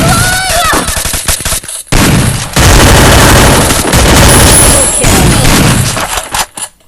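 Rapid bursts of automatic gunfire in the shooter game Free Fire, loud and close, with dense rattling volleys broken by brief gaps and a few sharper shots, while a voice speaks faintly at the start.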